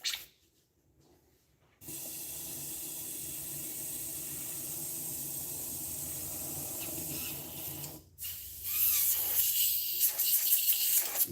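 A Badger airbrush sprays cleaner in a steady hiss that starts abruptly after a near-silent pause, runs evenly for several seconds, cuts off briefly, then returns as a louder, rougher burst of air.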